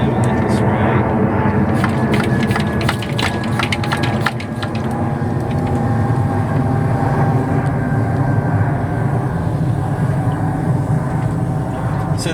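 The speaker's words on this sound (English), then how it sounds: "Sorry about the plane." An airplane drones overhead at an allotment plot, a loud steady rumble running through the whole stretch, with a person talking and rhythmic spraying or crackling sounds nearby.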